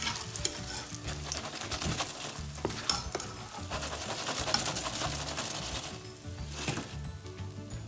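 Mash moong dal bhallay fry in hot oil with a dense, steady sizzle and crackle that holds for several seconds, close and loud, with no voices.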